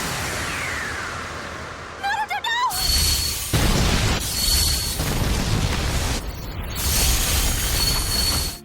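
A Naruto anime technique, the Golden Wheel Rebirth Explosion, unleashes a loud roaring blast with grinding mechanical rumble, preceded by a brief warbling tone, then surging in heavy waves that break off and resume before cutting out.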